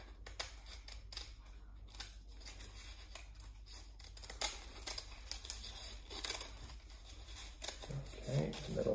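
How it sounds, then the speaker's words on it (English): Scissors snip through a paper loop in a run of quick crisp cuts with light paper rustling, close by. "So I'm going to take my scissors. Make a little cut in there,"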